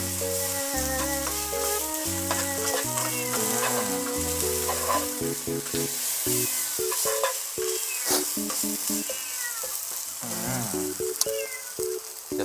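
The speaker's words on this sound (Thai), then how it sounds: "พอใส่ใบกะเพราเดี๋ยวผมก็ผัด คลุกๆให้ใบมัน" Mama instant noodles stir-fried with holy basil leaves in a pan: a steady, close sizzle with scraping and tossing strokes runs throughout beneath tonal background music.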